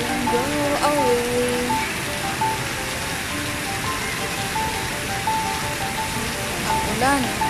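Heavy rain pours steadily at the National Stadium in Singapore, a dense, loud wash of falling water with wind, while faint tonal music or announcements drift over it.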